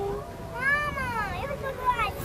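A cat meows several times in drawn-out, rising and falling cries that stand out clearly against a murmur of nearby voices.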